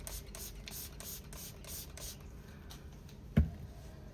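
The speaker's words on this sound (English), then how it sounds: "spray my fingers with alcohol" Alcohol sprayed onto fingers from a spray bottle gives one short, sharp hiss partway through, set against a steady low background murmur.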